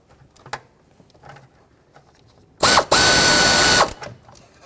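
A ratchet works on the intake manifold bolts of a Ford Flex, with faint clicks and then a loud, sustained burst of about one second near the end.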